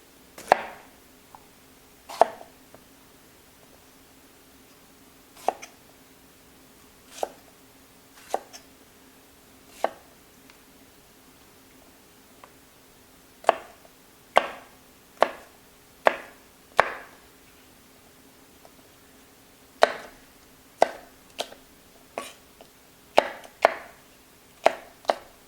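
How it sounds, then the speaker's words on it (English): A knife cuts carrots and pepper into squares on a cutting board in a quiet kitchen. Crisp, irregularly spaced chops come close, sometimes in quick pairs, with no talk. "The pepper's nice if you cut it into squares."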